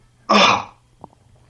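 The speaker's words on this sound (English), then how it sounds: "it's just smoker's cough" A single harsh, wheezy cough bursts out close by, followed by a couple of faint throaty sounds and quiet room noise.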